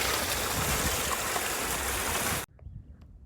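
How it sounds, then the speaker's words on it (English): A babbling brook in Patagonia along the Carretera Austral rushes steadily and close by for over two seconds, a loud broadband wash of water that cuts off abruptly into quiet with faint small sounds. "let us drink from this babbling brook."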